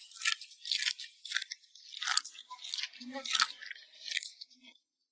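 Someone crunches a small beetle in the Sahara desert, a series of sharp, close crackling bites and chews in an irregular rhythm, quiet and alone before fading to silence.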